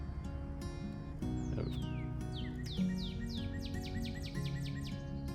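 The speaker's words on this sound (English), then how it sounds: "Y'all hear those birds just singing away?" Birds sing outdoors in a suburban backyard garden, with repeated bright chirps and sweeping whistled phrases coming in quick succession over a low, steady background hum.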